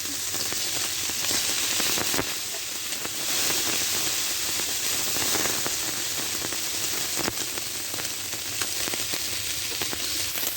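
Tengra fish pieces fry with spices in an oily pan, giving a steady, loud, dense sizzle and crackle that runs without a break and sounds close and rain-like.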